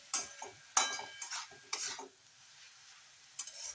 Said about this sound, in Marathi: हा भाजलेला शेंगदाण्याचा कूट आहे, तो 2 चमचे घालायचा आहे आणि चांगली परतून घ्यायची।